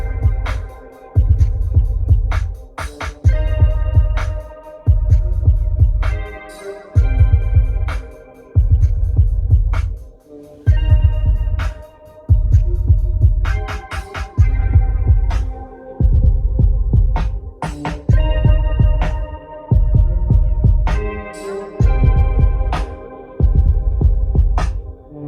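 Music plays loudly through a Lincoln Aviator's in-car audio system set to on-stage listening mode, with a heavy pulsing bass beat under sparse melodic notes and chords, full and close, with no talking.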